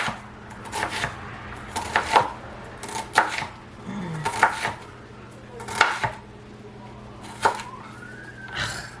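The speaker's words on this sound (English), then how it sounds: "I can't stand cutting onions" A knife chops onions on a board in steady, separate strokes roughly one per second, close and crisp, with faint background hum and a distant siren-like tone.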